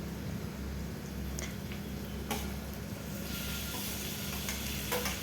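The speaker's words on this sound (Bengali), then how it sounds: "কুচি কুচি করে কাটা টমেটোগুলোকে দিয়ে দিলাম। এবার সুন্দর করে এটাকেও ভেজে নেব সুন্দর করে লাল করে।" Chopped tomatoes fry in a pan over ginger, garlic and chili paste for ghugni, giving a steady close sizzle and hiss with a few faint clicks of stirring and no speech.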